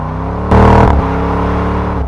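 Jeep Grand Cherokee Trackhawk accelerating from second gear on ice, a loud steady engine drone with a brief surge of revs before settling back to an even tone.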